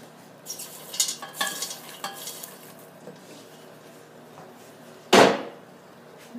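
Popcorn kernels for caramel popcorn are stirred in a hot oiled pan, giving soft sizzling and scattered scraping clinks of a spoon against metal, then one sharp loud clatter near the end, close by with no talk.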